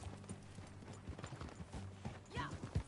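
Horse hooves clip-clopping at a steady ride in Red Dead Redemption 2, a fairly close run of soft rhythmic hoofbeats with gear and tack clatter, and a brief whinny-like sound near the end.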